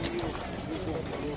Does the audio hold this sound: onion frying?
no